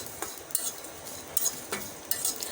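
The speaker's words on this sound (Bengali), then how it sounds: "আমি চিংড়ি শুটকিটাকেও টেলে নেব।" Dried shrimp are dry-roasted in a pan and stirred with a utensil, producing intermittent close scrapes and light metallic clinks over a faint dry sizzle, with no voices.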